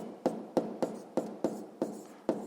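Pen strokes on paper while working through a 7th-grade physics friction problem, seven short scratchy bursts in a steady rhythm, close and fairly quiet with no talk.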